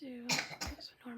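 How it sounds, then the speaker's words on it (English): A child coughs a couple of times in the background while an adult speaks quietly nearby. "you guys can hear my little guy coughing behind me"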